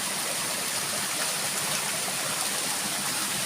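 Water rushing steadily over rocks at a waterfall near Ban Na Ang, Thailand, a constant full-bodied roar close by, with no voices or breaks.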